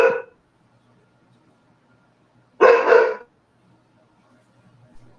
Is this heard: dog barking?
yes